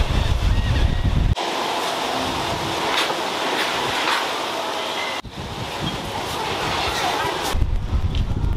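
Strong wind roars and buffets against the microphone in continuous gusts, with abrupt shifts in intensity; loud and close, outdoors in the Florida Keys.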